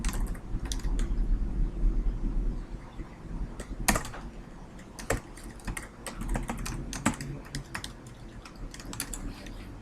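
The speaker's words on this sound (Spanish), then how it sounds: "vamos a dar un enter por acá, un par de enters" Keys clatter on a computer keyboard in a run of close, crisp taps, including several firm presses of the Enter key, against a low background hum.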